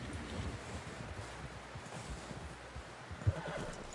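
A horse in the video game Red Dead Redemption 2 whinnies and snorts, with a few soft hoof clops under a low wash of wind, fairly faint and without talk.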